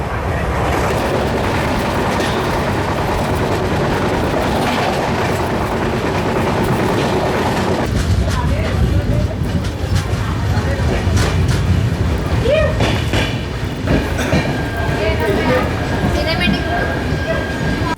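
The Haripriya Express runs on rails between Kolhapur and Tirupati, giving a loud continuous rumble with rhythmic clickety-clack and rattling from inside the carriage, and occasional talk under the train noise.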